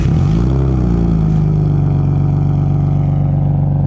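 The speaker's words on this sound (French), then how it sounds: "Ça va falloir démarrer la voiture en gros." Car engine of a BMW E36 idling loudly and close after a quick rev that settles into a steady low rumble, with no talk.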